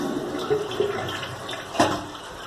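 A toilet flushing in a bathroom that had been clogged, a steady rushing of water with a brief louder gurgle toward the end, close by and without talk.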